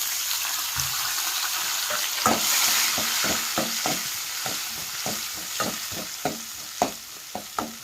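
Chopped tomatoes frying in a pan for brinjal curry, with a steady sizzle and a run of sharp, regular scraping clicks as a spatula stirs them, growing more frequent toward the end; no talking.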